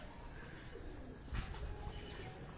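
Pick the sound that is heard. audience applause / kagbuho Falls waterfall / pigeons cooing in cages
pigeons cooing in cages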